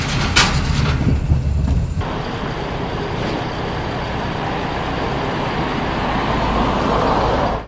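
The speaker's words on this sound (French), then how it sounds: "On roule sur des grillages." A car rolling across a metal grid bridge on the way into Arenal Volcano National Park in Costa Rica, a loud, dense, continuous rumble and rattle of tires on open grating heard close from inside the vehicle.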